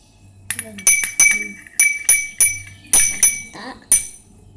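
Utensil stirring slime mixture in a glass bowl, giving a series of about ten bright, close clinks and scrapes in an uneven rhythm, with a faint low hum beneath.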